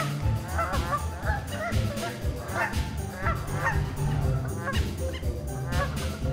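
Geese in a park honk repeatedly in a noisy flock, loud and close, with a steady outdoor wash behind the overlapping calls.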